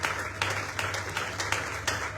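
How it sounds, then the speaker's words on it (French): A church congregation applauding a newlywed, a steady patter of many hands clapping with rhythmic accents, moderately loud and continuous over a low background hum. "On peut acclamer pour toi."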